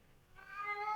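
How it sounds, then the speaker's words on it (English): A pet cat meows once, faint and in the background, a short rising call that fills the second half of a quiet moment. "I know you can't help but hear my cat Charlie in the background"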